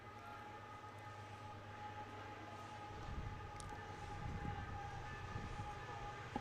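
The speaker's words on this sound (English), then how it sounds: "Of course, we have our first train of the day." A train passes a park beside an amateur soccer match, a low rumble building from midway and staying steady, with a horn-like tone and a distant hum, with no voices.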